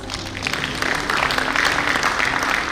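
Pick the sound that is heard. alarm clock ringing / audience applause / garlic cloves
audience applause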